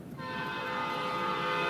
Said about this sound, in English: Right as we just intercepted the train right at the right moment.